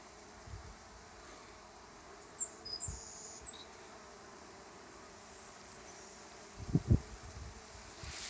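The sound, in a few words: honey bees buzzing at a hive feeder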